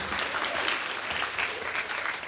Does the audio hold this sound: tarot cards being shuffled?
no